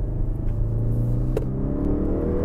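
A 2016 Audi RS7 accelerating, its engine a steady loud rumble heard from inside the cabin, with one sharp crack at a gear change partway through.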